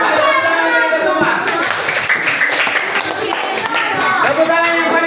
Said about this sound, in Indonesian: Ayo tepuk tangan kita semua.